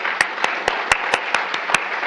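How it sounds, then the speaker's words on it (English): A few scattered handclaps ring out for a speaker at a health talk event, about eight sharp separate claps in a loose, uneven rhythm. "Let's give him a warm round of applause."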